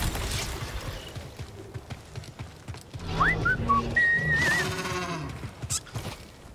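A player whistles to call a riding mount in the Star Wars Jedi: Survivor video game: a few short rising chirps, then a longer wavering whistle, over steady game ambience and animal noises.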